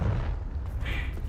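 A Confringo fire spell exploding in Hogwarts Legacy: a deep, rumbling boom with a fiery burst, heavy low-end roar sustained for about a second with a brief crackling flare near the end.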